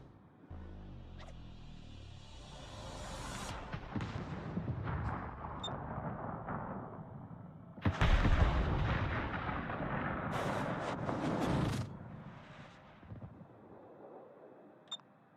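A warship in World of Warships fires HE shells in heavy, booming salvos with rumbling explosions and long decaying echoes, loud and close, with sharp clicks between volleys and no talking.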